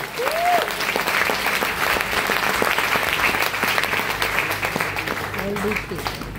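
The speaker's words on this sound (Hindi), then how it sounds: "जोरदार तालियां बजा लो एक बार दिल खोल के" Loud, sustained applause from an audience at a motivational leadership seminar, dense clapping filling the space with a crowd murmur underneath.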